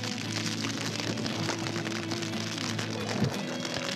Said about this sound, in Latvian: Ārā līst lietus, pūš vējš.